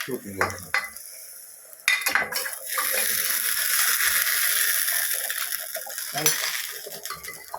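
A loud sizzle erupts as hot tempering oil is poured into curry, hissing steadily for several seconds after some clinking of metal utensils and a pan.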